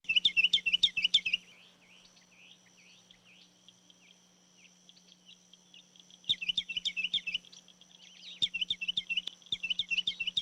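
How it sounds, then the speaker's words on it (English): A sparrow chirps at a nest just outside a window in rapid bursts of high, twittering calls, pausing for several seconds before resuming, fairly close and clear. "I think it's a sparrow"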